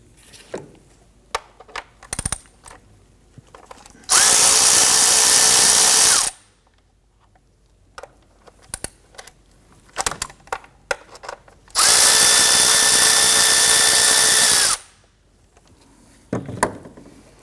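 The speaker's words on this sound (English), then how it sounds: "They have two 10mm bolts. We want to go ahead and loosen and remove those" A power tool on a 2017-2020 Hyundai Elantra loosens 10mm sensor bolts during a valve cover job, running in two loud, steady whirring bursts of about two to three seconds each, with clinks and handling noises between them.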